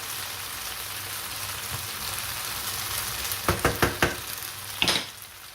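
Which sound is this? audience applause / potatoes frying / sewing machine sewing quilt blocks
potatoes frying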